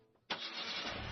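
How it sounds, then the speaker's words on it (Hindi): A red car engine catches with a sudden loud burst and then runs on in a steady, close roar as it pulls away. "लाल गाड़ी चल पड़ी।"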